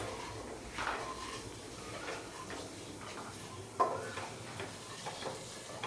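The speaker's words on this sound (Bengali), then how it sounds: "হালকা করে নেড়ে নিচ্ছি" Cumin seeds frying in a pan while being stirred lightly, a soft steady sizzle with faint scraping and ticking of the spoon, one sharper clink partway through, close and quiet with no talk.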